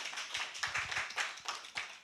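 Church congregation clapping at a Sunday worship service, many hands applauding in a lively, uneven patter with rhythmic surges, moderately distant and without talk.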